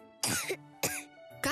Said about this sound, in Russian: Кашель почався.